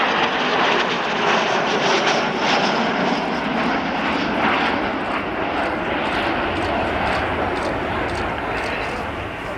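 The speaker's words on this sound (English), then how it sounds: "Your very own Vulcan." Avro Vulcan B Mk2 XH558 jet bomber passing at an air show, a loud steady broadband engine roar sustained throughout with no talk over it.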